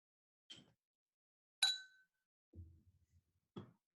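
Glasses clink together in a toast, with a few sharp, isolated ringing dings separated by silence and a duller knock in between, quiet and close.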